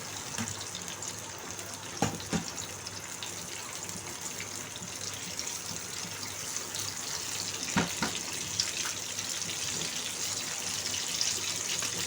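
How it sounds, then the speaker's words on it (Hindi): Water poured into chutney during cooking makes a steady trickling, splashing stream with a few sharper clinks of utensil or pan, and no talk. "ये थोड़ा सा मैं इसमें पानी डालती हूँ"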